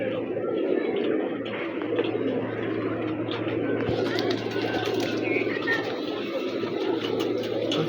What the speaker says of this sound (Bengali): প্রচুর পরিমাণ ফ্লাইং এই কবুতর